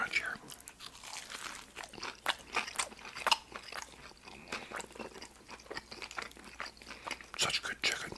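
Crunchy Lee's Famous Recipe fried chicken is bitten and chewed close to the mic, with repeated crisp crunches and smacking mastication in an irregular rhythm, over a low background with soft voice sounds.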